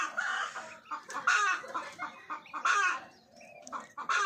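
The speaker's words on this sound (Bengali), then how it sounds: "চীনা হাঁসের বাচ্চাগুলো আছে" Chinese duck ducklings kept under a heat lamp give off a busy run of high, repeated peeping calls, near and fairly loud, with short pauses between bursts and no talk.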